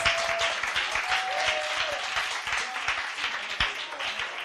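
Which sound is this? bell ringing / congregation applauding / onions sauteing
congregation applauding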